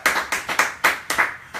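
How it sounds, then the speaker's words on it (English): Audience applause in a talk or seminar hall, six distinct bursts of clapping rising and fading in quick succession, fairly close and moderately loud with no voices over it. "So won't you clap for them too?"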